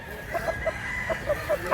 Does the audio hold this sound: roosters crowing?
yes